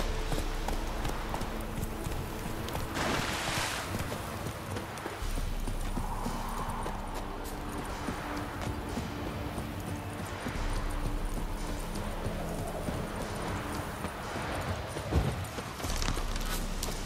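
Hooves clip-clop steadily from a horse moving along in The Witcher 3, a close, continuous rhythmic patter with a faint background hum throughout.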